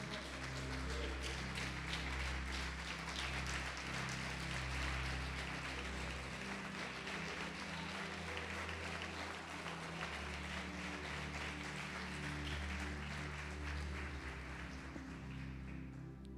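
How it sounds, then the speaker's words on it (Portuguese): A church congregation applauds during a sermon, a broad steady wash of clapping that holds for the whole span, mixed with sustained organ-like or keyboard tones underneath. "Você pode aplaudir o Senhor Jesus por isto?"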